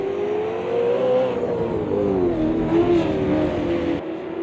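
A V8 supercar engine, the Red Bull Commodore, roars loudly and steadily while racing at the Adelaide 500, its pitch rising and dipping through gear changes, with no talk over it.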